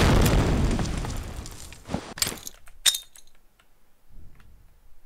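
A grenade goes off in a first-person shooter game, a loud close boom that trails into rumble, followed by sharp clinking and popping debris-like sounds, then quieter game noise.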